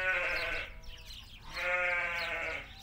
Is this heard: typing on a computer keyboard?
no